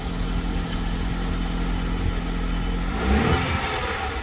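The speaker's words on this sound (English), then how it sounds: "Y'all got to hit a first start on the Tiburon." Abandoned Hyundai Tiburon engine starting for the first time in years, an idle with a steady low hum that catches and revs up sharply near the end, loud and close with no talk.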